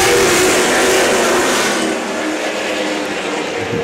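Chargers race cars roar off together at the green flag on an oval, a dense, loud wall of engine noise that stays strong and steady throughout, with no voices over it.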